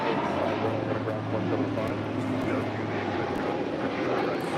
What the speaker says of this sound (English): This is Spirit Airlines Flight 1265 departing to Houston Intercontinental on an A320neo